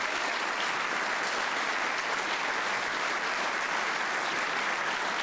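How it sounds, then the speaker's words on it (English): Audience at a business of the year awards ceremony breaks into steady, full applause, with dense clapping sustained throughout and no voices over it. "could you give yourselves a round of applause?"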